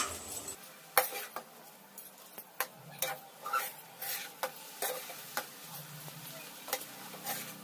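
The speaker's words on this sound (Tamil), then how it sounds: "இப்ப பாத்தீங்கன்னா நம்ம வந்து கிளறிடலாம்." A spoon scrapes and taps through garlic pepper rice in a pan, with irregular clinking strokes over a faint sizzle, close and fairly quiet.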